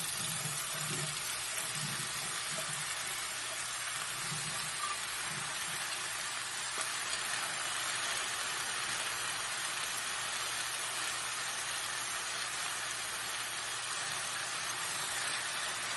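Cauliflower, carrots and eggplant stir-fry in a pan with a steady, faint steamy hiss and sizzle that runs unbroken throughout, with no voices.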